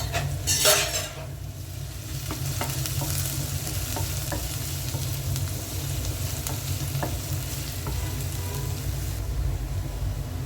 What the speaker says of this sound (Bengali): এখন আমি প্যানটাতে 1 টেবিল চামচ তেল দিয়ে দিচ্ছি। দিয়ে দিচ্ছি পেঁয়াজ কুচি,